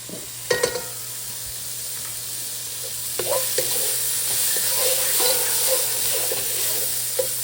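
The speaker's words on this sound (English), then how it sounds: "I'm going to add my rosemary and thyme. Stir that up before I go and add in the liquid." Rosemary and thyme being stirred into sizzling braised beef short ribs with bay leaves in a pot, giving a few sharp scrapes at the start and then a steady close sizzle with intermittent stirring clinks, no talking.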